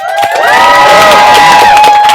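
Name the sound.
audience applause and cheering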